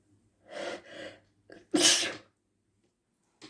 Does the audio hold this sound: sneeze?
yes